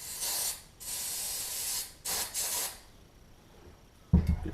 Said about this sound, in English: A little motor spray here to